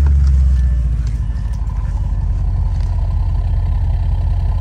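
An Audi RS7 idling through its cold start, a loud, close, steady low rumble with an even pulsing throb and a slightly higher note in the first second, no voices.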